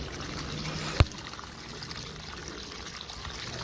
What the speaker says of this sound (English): stream of water coming from there